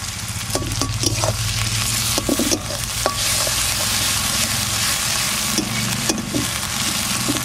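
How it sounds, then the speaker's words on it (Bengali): Chopped onion fries with ginger, garlic and green chilli paste for a mutton curry, a loud continuous sizzle punctuated by repeated sharp spatula scrapes and knocks against the pan, close up, with no speech. "কুচনো পেঁয়াজ, এর সঙ্গেই দিয়ে দিচ্ছি আদা, রসুন আর কাঁচা লঙ্কা বাটাটা"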